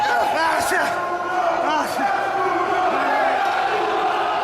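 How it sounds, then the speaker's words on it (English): A wrestling arena crowd cheers wildly at a retirement match, a dense roar of shouts, whoops and bellows that stays loud and continuous throughout. "The crowd getting absolutely wild now"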